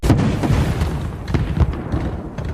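Black powder explodes in a film, producing a loud, rolling boom with dense rumbling bursts that continue throughout.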